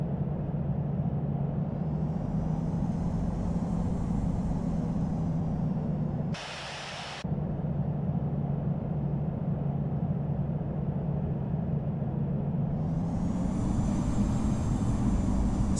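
An airliner departing runway 27 left in London produces a steady, broad jet roar with a droning low hum, heard from a distance. The roar briefly drops out, then returns and swells.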